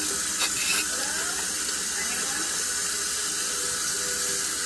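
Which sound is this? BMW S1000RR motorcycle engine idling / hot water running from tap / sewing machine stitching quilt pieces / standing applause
hot water running from tap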